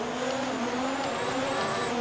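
In the F1 2019 video game, F1 race cars rev and launch at the race start in Bahrain, a loud, dense engine scream holding steady and climbing slightly across a brief burst.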